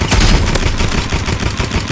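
Rapid, continuous paintball gun fire in the Roblox game Rivals, a loud dense barrage of shots with no pauses and no talking.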